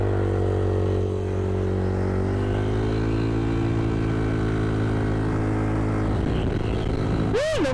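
A motorcycle engine holds a steady high-RPM drone in an arena, loud and close, then rises sharply in a quick rev near the end.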